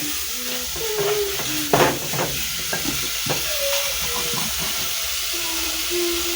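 Minced meat and onions fry in a pan for a samosa filling with a steady, close sizzling hiss. Occasional spatula scrapes and knocks break through, and a faint tonal whine runs underneath.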